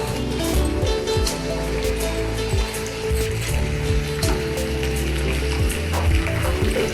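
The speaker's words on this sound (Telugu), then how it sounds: "డీప్ ఫ్రై చేసుకోవాలి" Wheat kajalu, pieces of bobbatlu dough, deep frying in oil, a steady dense sizzle with bubbling crackle close up and continuous throughout.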